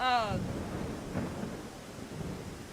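Rain and thunder in the ICO video game, a low rumbling roll of thunder over steady rain hiss, with a voice briefly heard at the start.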